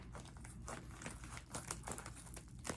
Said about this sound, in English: I don't think I opened this package enough. So let's just see if I can do a little bit more cut.